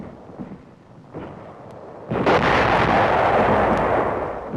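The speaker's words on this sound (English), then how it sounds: "TNT charges for blowing up and sealing the wall's underground tunnel system." TNT charges blowing up and sealing the underground tunnels beneath a defensive wall in wartime combat, with a muffled thump followed by a sudden, sustained roaring blast that carries loud and broad to the end, no speech.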